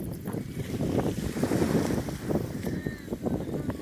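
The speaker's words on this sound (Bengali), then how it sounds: "একটি ট্রলার ছোট্ট একটি ট্রলার এসে ভিড়েছে এই ঘাটে" A small trawler's engine rumbles steadily up close as it arrives at a river ghat, with wind buffeting the microphone and water sloshing underneath.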